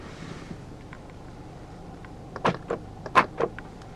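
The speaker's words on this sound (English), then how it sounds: "Central locking" Central locking engaging on a 2015 Mercedes-Benz E300 BlueTEC Hybrid, a quick run of close mechanical clunks and clicks after a quiet cabin lull.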